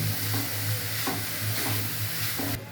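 Grated coconut and sugar mixture for naru, sweets made with kheer and ghee, being stirred in a pan, giving a steady scraping and sizzling with soft periodic strokes, close and continuous, without speech.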